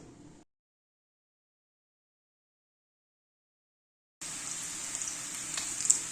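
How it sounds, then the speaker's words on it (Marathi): Bread pakoras deep-fry in hot oil with a bright, steady sizzle that starts after a long stretch of silence and continues close and clear with small crackles, with no talking. "अशाच प्रकारे मी आता दुसरे तळून घेते आणि दाखवते तुम्हाला"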